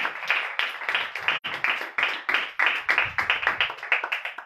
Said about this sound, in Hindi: मैं जोरदार तालियां बजाएं जिंदगी बख्श कलाम के लिए